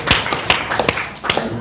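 A group claps hands in a short, uneven burst of sharp slaps lasting under two seconds, close and fairly loud, at a classroom teaching assessment.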